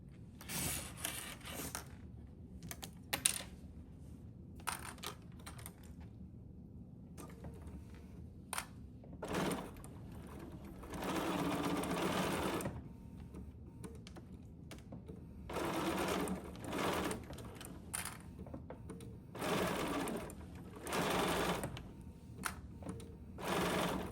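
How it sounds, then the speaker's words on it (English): A sewing machine stitches a quarter-inch seam on a quilt block in several bursts of fast rhythmic whirring, separated by short quiet pauses and a few small handling clicks. "we're going to sew this 1/4 of an inch seam here up the top"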